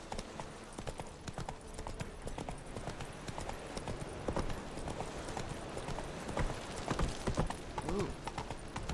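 Roach the horse's hooves clip-clop steadily in The Witcher game, a brisk regular gait running the whole stretch with a brief snort or whinny near the end and faint game ambience beneath.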